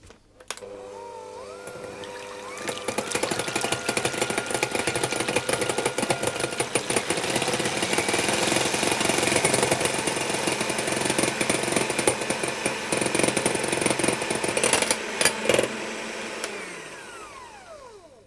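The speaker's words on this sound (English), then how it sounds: "And I'm going to put my lemon juice in and just whisk those." Electric whisk beating egg whites with lemon juice for almond cookies, a steady close motor whir with rattling that runs for about fifteen seconds before winding down, with no speech.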